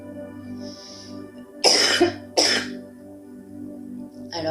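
A person gives two sharp, close coughs in quick succession, with a faint throat sound at the end, set against a quiet, steady background hum.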